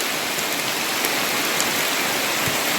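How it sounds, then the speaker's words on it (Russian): Heavy rain pours down in a dense, steady roar of countless drops hitting the ground, loud and unbroken throughout, with no voices. "Дождь усилился, настоящий ливень."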